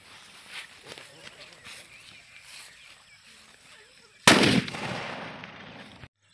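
A Jallikattu-type country firecracker from Valangaiman goes off with a single sharp, loud bang during a quality test, followed by a short rumbling tail and then silence. Faint shuffling and soft knocks come before the blast.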